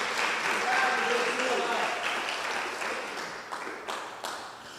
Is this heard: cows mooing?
no